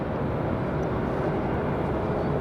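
An Alaska Airlines jet taking off from runway 23 right at Raleigh-Durham airport gives a steady, loud, broad engine roar, unbroken and rumbling throughout.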